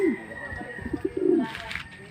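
Racing pigeons coo close by in soft, low, throaty bursts that repeat several times, with faint background noise.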